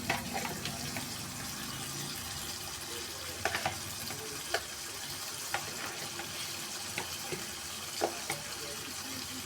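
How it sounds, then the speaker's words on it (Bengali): Fish sautéing in oil in a pan with spices, eggplant, potato and tomato. The frying hiss sits at a soft, steady level, with occasional sharp clinks and scrapes from stirring, and nobody speaks. "এখন আমি মাছগুলি একটু কষিয়ে নেব।"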